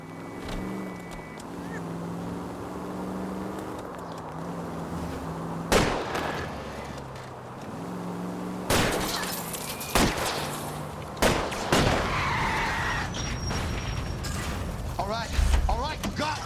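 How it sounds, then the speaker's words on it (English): Gunshots fired at a fleeing car's tire during a chase in L.A. Noire, several sharp loud cracks spaced a few seconds apart over a droning engine, with people talking between the shots. "I'll try to shoot out his tire."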